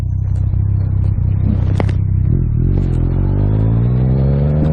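Yamaha XSR900 motorcycle with an Akrapovic exhaust and flashed ECU revving up close, a loud, deep, throbbing engine note that climbs steadily in pitch while idle clatter fades, heard alone.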